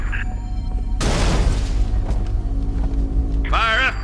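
An artillery fire mission in the video game Halo: Reach lands one heavy, loud explosion with a broad roar that rumbles away over a few seconds, followed by a brief warbling tone.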